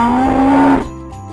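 A cow gives one loud, sustained moo that cuts off sharply, then a brief quiet tail, heard close and alone in an animal alphabet learning game.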